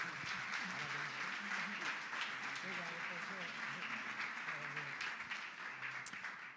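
A church congregation applauding during a celebration service, sustained crowd clapping under voices singing or calling out, with a tonal murmur of voices running through.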